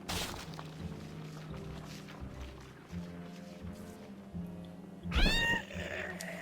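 Skeleton cats meowing in the video game American McGee's Grimm, a loud, rising meow near the end over low game ambience and music.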